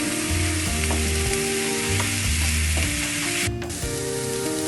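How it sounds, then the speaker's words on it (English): A fish mixture seasoned with salt, pepper and parsley being stirred, loud and close, with continuous scraping and bubbling from the bowl or pan and no talking. "now I'm going to mix it well."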